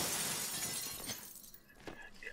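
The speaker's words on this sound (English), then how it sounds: "She just punched the glass." Glass shatters in Resident Evil Revelations 2 as a character punches through a pane with the back end of a knife, a bright crashing burst that tails off into scattered tinkling fragments.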